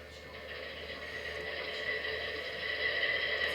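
An MTH model train's GE diesel locomotive sound system starting up, with a steady mechanical engine drone that slowly builds in loudness and carries a faint tonal whine.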